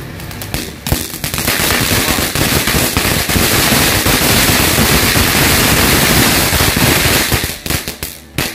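Large firecrackers and roman candles go off in a dense, loud, continuous crackling barrage lasting several seconds, with sharper isolated bangs at the start and end, at night with no clear talking.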